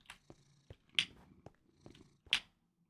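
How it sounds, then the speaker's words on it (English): A cat purring up close, soft rhythmic rumbling breaths broken by a few sharp clicks and brief noises, quiet overall with no talking. "Cat continues to purr."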